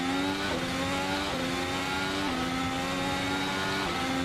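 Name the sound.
2017 works Ferrari engine revving in video game Assetto Corsa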